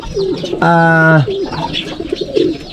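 A pigeon at a racing-pigeon loft gives a low, drawn-out coo amid softer rustling and faint bird sounds nearby.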